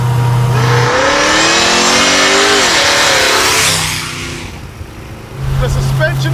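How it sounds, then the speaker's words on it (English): A '40 Ford hot rod does a burnout, its engine revving hard and loud up close with a rising, wavering roar that briefly eases off and then surges again over a low idle note, while people talk. "Yes, it does a burnout."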